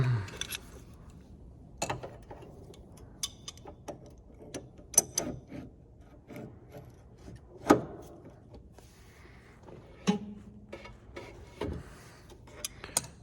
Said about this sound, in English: it's kind of rubbing against that blade